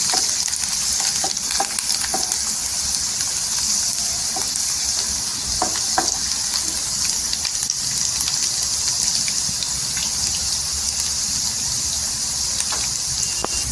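Golden-browned garlic and cumin seeds sizzle in hot oil in a pan for a spicy green chili and tomato kharda, a steady close frying hiss with occasional faint pops and stirring clicks throughout.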